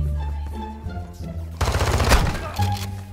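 Rapid bursts of gunfire from a Call of Duty match, loud and close, with a dense volley of shots in the middle and sustained tones of game audio around it.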